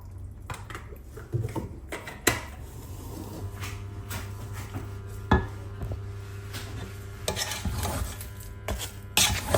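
Turmeric, cinnamon, cardamom and ginger-garlic paste being stirred in oil in a pan, with soft scraping and metallic clinks of a spoon against the pot, close and fairly quiet over a low steady hum.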